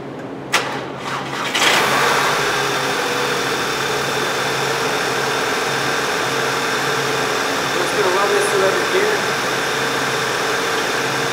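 A 2010 VW CC engine cranks and catches with a short burst, then settles into a steady, close idle that runs on evenly during transmission fluid service.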